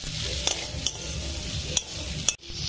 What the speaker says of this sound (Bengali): এটা খুব সুন্দর করে আমি কষে নেবো